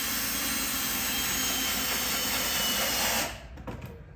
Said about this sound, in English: This drill's about ready to die.